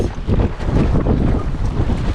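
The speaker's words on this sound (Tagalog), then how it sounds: "bigla naman dumating ang malakas na ulan na may kasamang malakas na hangin" Loud, gusting wind with rain buffets the microphone with a dense rushing roar, like a strong storm outdoors, continuous and close.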